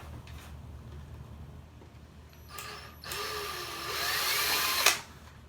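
A power drill with a 5/32-inch bit whirs up to a high, steady whine for a couple of seconds drilling plastic on a Tamiya model car, then stops abruptly after quiet background hum.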